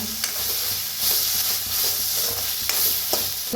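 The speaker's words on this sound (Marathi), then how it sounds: "त्याच्यातच टाकू आपण कांद्याचे पात बी ह्याच्यातच भाजून घेऊया" Onion greens frying and being stirred in a hot oily pan alongside tomato and onion, a steady close sizzle broken by scraping stir strokes, with no talking.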